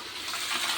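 Water is turned on to fill a cattle trough at a cow shelter, a brief steady gushing rush heard close and alone.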